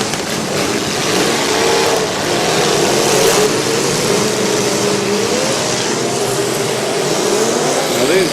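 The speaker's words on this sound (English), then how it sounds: "Now these drivers continuing a barrage of hits right now." Demolition derby cars at a county fair, revving engines and a continuous dense roar of motors in an outdoor arena, steady and fairly loud with crowd noise underneath.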